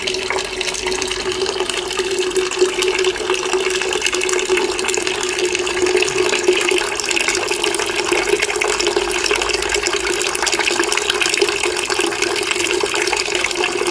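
Melamchi water runs from a household tap in Chuchhepati, Kathmandu, a loud, steady, close splashing stream that continues without break or voices.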